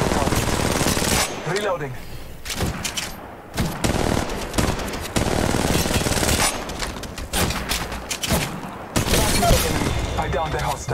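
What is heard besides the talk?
gunfire in video game Apex Legends Mobile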